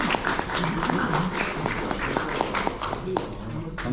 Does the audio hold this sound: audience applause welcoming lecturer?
yes